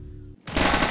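Burst of rapid automatic gunfire in the Zero Hour tactical shooter, loud and close, starting abruptly after a brief quiet moment and sustained without talk.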